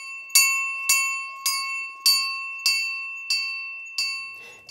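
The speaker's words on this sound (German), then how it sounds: "Beim Beginn eines jeden Gottesdienstes schlagen wir mit der Glocke an." A bell in Passau Cathedral, struck at the start of a church service, rings seven evenly spaced strokes. Each clear, bright strike rings on and decays before the next, heard alone and close.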